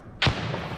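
A grenade explodes in a video game with one sudden, heavy thud and a short rumbling tail that fades quickly, close and alone.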